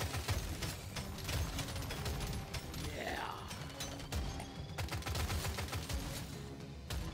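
Smart rifle gunfire from the game Deep Rock Galactic Survivor: a dense stream of rapid, clicky mechanical shots and ratcheting ticks that patter on continuously at moderate volume.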